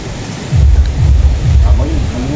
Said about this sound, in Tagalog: Dito po sa amin malakas po ang hangin at may bagyo.